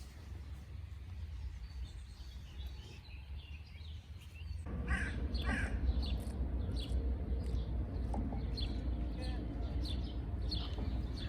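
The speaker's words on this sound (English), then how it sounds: "Do you hear the birds chirping in the trees?" Outdoor ambience with birds calling from the trees, crow-like caws among scattered chirps over a low steady rumble that grows louder midway.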